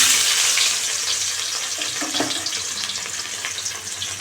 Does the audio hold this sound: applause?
no